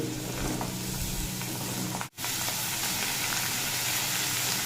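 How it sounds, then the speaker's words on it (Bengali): Sliced ridge gourd frying in a pan over low to medium heat, giving a steady, close hissing sizzle that cuts out for an instant midway and then continues evenly. "ঝিঙেটা দিয়ে ফ্লেমটা ফ্রাই করে দেব আর খুব ভালোভাবে ভেজে নেব"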